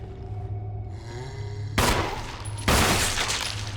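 Two loud, heavy gunshot blasts ring out about a second apart against a humming video game background as zombies are shot.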